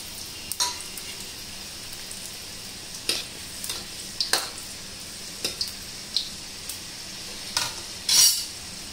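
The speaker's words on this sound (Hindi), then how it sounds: "अच्छे से लहसुन जब तक ब्राउन हो जाता है हम इसको भून लेंगे इसी तरीके से।" Garlic and whole red chillies frying in a pan, a low steady sizzle broken by about a dozen sharp scrapes and taps of a spoon, close and fairly quiet, with no voices.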